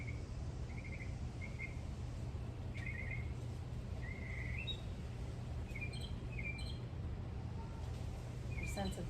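Repeated bird chirps and short tweets scattered across the clip, fairly faint, over a steady low outdoor hum, with a lawnmower somewhere in the distance.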